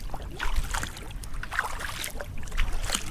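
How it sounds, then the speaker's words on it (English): A kayak paddle dips into a lake in North Algonquin Park. There are soft, rhythmic splashes and drips, faint and close, with light wind noise and no talk. "I just gotta keep paddling"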